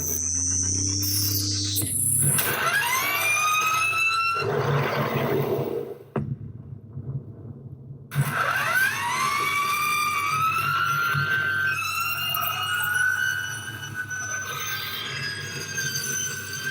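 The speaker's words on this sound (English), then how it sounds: "that's the electric sound of the Mach-E 1400" Ford Mach-E 1400 electric car giving a loud high-pitched scream that sweeps upward in rising tonal whines, cuts out briefly, then returns as repeated climbing electric wails over a low hum.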